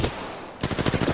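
Rapid gunfire in the video game Apex Legends, a quick burst of close shots breaking in after a brief lull of low background noise.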